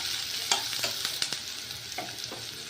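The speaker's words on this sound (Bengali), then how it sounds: "আমি প্রথমে চুলায় একটি কড়াই বসিয়ে দিচ্ছি আর দিয়ে দিচ্ছি পরিমাণ মতো তেল আর দিয়ে দিচ্ছি পরিমাণ মতো পেঁয়াজ কুচি।" Chopped onions fry in oil in a wok while being stirred, a steady close sizzle broken by several sharp scraping stirs; no voices.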